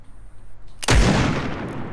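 A single scoped revolver shot fired into the air in a video game, a sudden loud boom with a long rumbling tail after a quiet lead-in.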